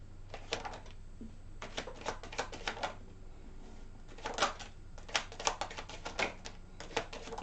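Tarot cards are shuffled and handled in a quiet room, giving soft clustered flicks and riffling snaps in uneven bursts over a low steady hum, close and fairly faint.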